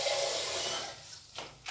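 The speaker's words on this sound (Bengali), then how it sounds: "এর ভিতরে নর্মাল পানি দিয়ে দিলাম।" Plain water pours into a pan of hot roasted rice, a rushing gush that hisses and then fades, followed by a couple of short splashy bursts.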